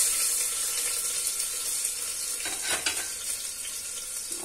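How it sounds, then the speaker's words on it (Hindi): Cumin seeds and chopped onion fry in hot oil for a potato curry served with puri, crackling in a busy close sizzle broken by a few sharper stirring scrapes near the middle. "हमारा तेल गरम हो चुका है, इसमें मैं डालूंगी थोड़ा सा जीरा, जीरा के साथ ही डाल दूंगी मैं प्याज।"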